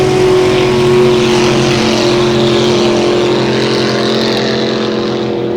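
A loud, powerful racing motorboat engine roars steadily at high revs during a race in Pateros, a strong droning whine holding close and constant throughout.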